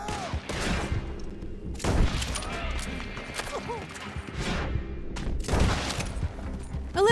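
Repeated bursts of video game gunfire from mercenaries defending a mine crack and rattle amid explosions and clatter, with a voice speaking underneath.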